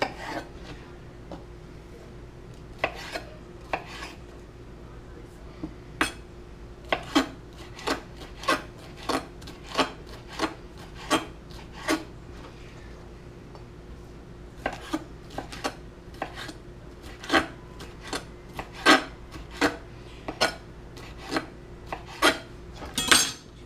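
Repeated knife strokes cutting steak into strips on a board, irregular taps and scrapes coming in bursts, close and fairly quiet, no speech.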